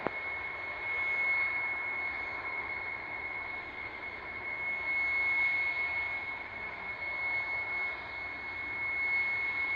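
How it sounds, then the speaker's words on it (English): Two fighter jets taking off, heard as a steady, even roar of jet engines with a thin high whine running over it, holding at a distance from start to finish without any talk. "2 fighter aircraft getting airborne ahead"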